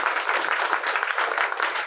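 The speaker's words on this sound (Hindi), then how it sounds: "एक बार पुनः हरेंद्र सर के लिए जोरदार ताली बजाइए" A school audience at a Teacher's Day event gives sustained, dense applause, loud and steady throughout with many hands clapping together.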